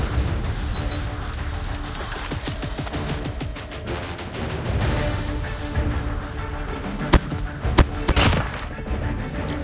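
An FR .556 rifle fires in a first-person shooter game, dense bursts of gunfire popping over a busy game soundscape, with a few sharper, louder shots standing out near the end.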